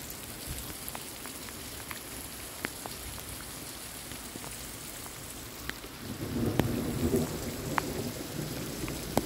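A thunderstorm with steady rain on surfaces and sharp thunder cracks, the downpour swelling louder partway through while distant rumbles roll underneath.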